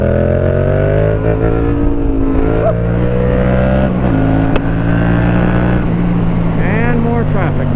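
Road traffic passes a motorcycle on a backroad, with engine tones rising and falling and vehicles sweeping by under the loud, steady drone of the bike's own engine.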